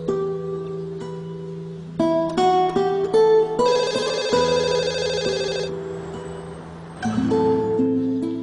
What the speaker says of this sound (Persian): تلفن زنگ میزنه